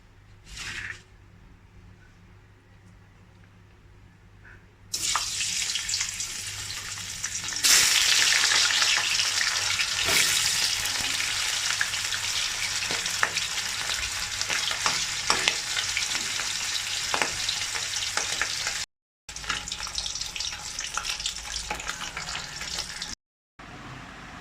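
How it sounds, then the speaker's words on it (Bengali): Hilsa fish frying in hot oil in a pan on a stove, a loud steady sizzle that swells after a few seconds and hisses continuously with brief cut-outs near the end. "তেল গরম হয়ে গেছে। এবার ইলিশ মাছ ভেজে নেব।"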